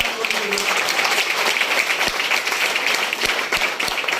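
Loud, sustained applause from an audience at a business event in Nalasopara, dense clapping filling the space with a few sharper individual claps standing out, and a voice speaking over it.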